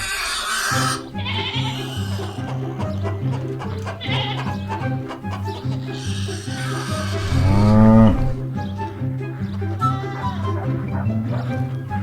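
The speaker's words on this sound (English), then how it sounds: "And this is his mum, the Piebald Cow." A piebald cow on a farm gives a loud, drawn-out moo near the middle, with other livestock bleating and lowing around it in a busy, repeating farmyard chorus.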